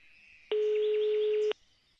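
A phone ringing tone in a Minecraft series sounds as one steady electronic beep lasting about a second, clear and alone against faint background hiss.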